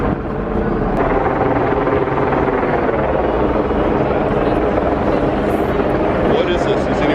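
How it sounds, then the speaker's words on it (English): A helicopter hovering over San Francisco, a loud continuous rotor thrum and engine roar filling the scene, with people talking beneath it. "The helicopter's still."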